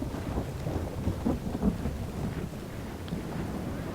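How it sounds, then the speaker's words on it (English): Steady rain pours down with low rolling thunder during a battle in the Third Age Total War game, a wide wash of rainfall and wind with deep rumbles swelling midway, no voices. "Damn, I hope this rain stops."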